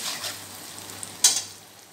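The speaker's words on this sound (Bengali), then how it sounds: "এবার এটাকে ভালো করে একটু কষিয়ে নিতে হবে," Green chili and spices being sautéed in a pan for a hilsa curry, a soft ongoing sizzle with a sharp spatter or utensil clink near the middle, no voices.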